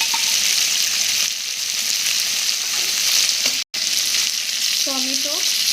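A ground paste of turmeric, cumin and coriander fries in a pan with a dense, loud, continuous sizzle, broken by a brief cut and a faint rising squeak near the end.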